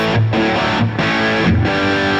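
An electric guitar plays through overdrive distortion with the volume pedal rolled back, giving sustained, moderately gritty chords that restrike three times, loud and alone.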